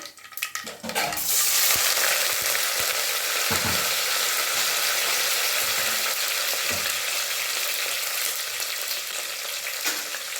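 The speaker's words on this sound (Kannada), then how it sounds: "ಎಣ್ಣೆ ಕಾಯಿ ಸ್ವಲ್ಪ ಸಾಸಿವೆ ಹಾಕ್ತಿರೋಣ" Mustard seeds tempering in hot oil, a dense close sizzle that rises within the first second and then holds steady, with a few faint pops and stirring clicks scattered through it.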